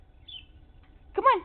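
A pet Quaker parrot gives a short, bright chirping call near the end, preceded by a faint high whistle over quiet room background.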